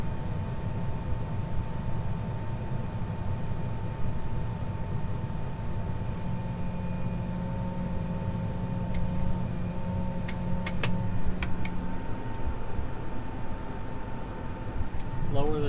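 Hydraulic wing wheels on a folding planter being lowered outdoors, a steady low mechanical hum and whine running throughout with a few faint clicks near the end.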